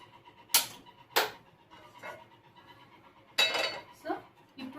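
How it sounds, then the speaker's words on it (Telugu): Pan set down on a lit stove ahead of roasting peanuts: a few sharp metallic clanks and scrapes spaced out over a few seconds, close and fairly quiet, with faint background noise between them. "ఇప్పుడు మనం ముందుగా స్టవ్ వెలిగించి ప్యాన్ పెట్టుకున్నాము."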